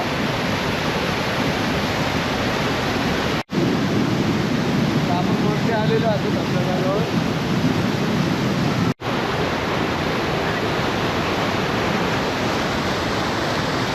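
A constant, dense roar of rushing water at the Someshwar waterfall in Nashik stays loud and unbroken throughout, with two brief dropouts and faint voices barely audible beneath the noise.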